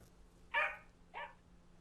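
A dog barks in the driving video game Drive Beyond Horizons, two short, fairly faint barks spaced about half a second apart over a low background hum.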